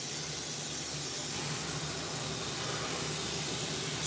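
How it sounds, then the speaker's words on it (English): Aerosol spray paint in cobalt blue hissing steadily over a pre-flaked skateboard deck during a custom lowrider-pattern job, a continuous close broadband hiss with no talking. "What I'm spraying right now is gonna end up with 3 coats."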